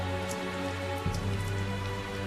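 Rain falling in the Tales of Zestiria video game, a steady even patter of droplets forming a continuous wash with a soft low thud near the middle, moderately loud and close.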